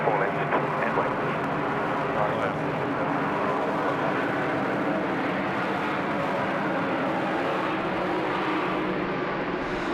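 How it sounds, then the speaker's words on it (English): Hawaiian Airlines A330 airliner at Sydney Airport, a loud, steady broadband engine roar that holds throughout, with faint voices mixed in the background. "You certainly know when the Hawaiian Airlines A330 is in town. They certainly wake you up."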